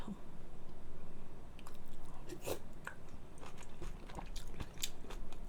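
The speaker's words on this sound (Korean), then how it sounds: "자꾸 쩝쩝 소리 많이 내서" Close, wet chewing of pad thai and omelette with lip smacks and occasional crunchy bites, uneven in rhythm, heard up close without talking.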